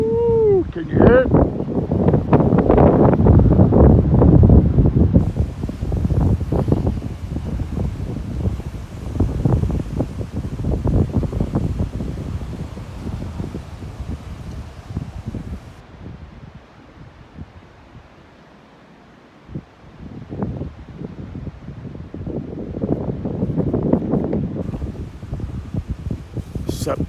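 Strong, cold wind gusting across a Colorado guest ranch in September, a loud continuous roar buffeting the microphone that surges and eases, with a person talking over parts of it.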